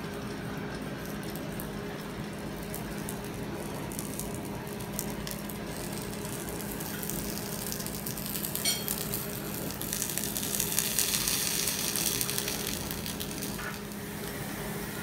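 Vegan bacon frying in a dry non-stick pan without oil, continuous sizzling and crackling, steady throughout, with occasional louder spatters and a brief scrape partway through.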